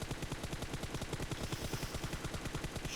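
A fast, unbroken burst of automatic rifle spray fire in PUBG Mobile, with shots in an even rapid rhythm that stays loud and close for the full stretch.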